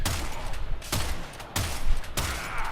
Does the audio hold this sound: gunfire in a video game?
yes